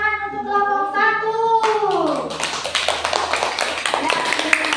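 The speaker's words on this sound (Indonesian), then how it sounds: "Tepuk tangan untuk kelompok 1." Classroom clapping for a student group, beginning after a short stretch of voiced talk and then continuing as a scattered, moderately loud patter of hands from a small crowd of pupils.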